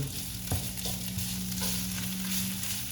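Pounded chili curry paste and garlic being stir-fried for a northern Thai curry with napa cabbage and pork belly: a soft, crackling sizzle with scraping stirs, a sharper knock early on, and a low steady hum underneath.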